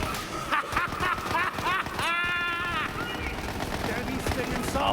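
Rapid gunfire from the Borderlands 3 video game, dense bursts of shots and blasts crackling almost continuously alongside game effects and a brief rising tone.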